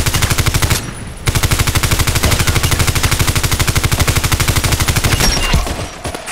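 Colt IAR automatic rifle firing in the shooter game Contract Wars, a loud close stream of rapid, evenly spaced shots in long bursts with one short pause near the start, no voices.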